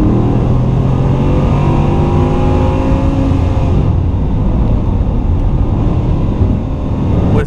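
A Bugatti Chiron with its 8-liter W16 engine and 1,500 horsepower revs and accelerates hard, a loud, continuous roar rising in pitch through the gears, heard close up with no talk.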